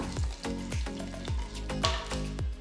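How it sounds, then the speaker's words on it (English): Mustard and cumin seeds splatter in hot oil, a close crackling sizzle broken by quick repeated pops and spits at a fairly even pace. "once you hear the mustard seeds start splattering"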